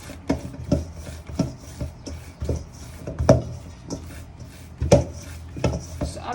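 Charcoal bread dough being mixed by hand, a soft rhythmic squish and scrape repeating about every half second, close and fairly quiet with no talk.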